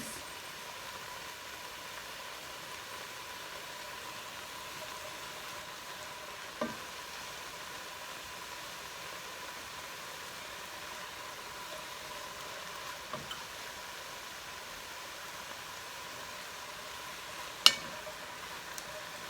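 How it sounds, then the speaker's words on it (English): Celery and carrots sautéing in a soup pot while being stirred, a faint, even sizzle running steadily with a few soft scraping knocks of the spoon scattered through. "Keep mixing them around to soften them up."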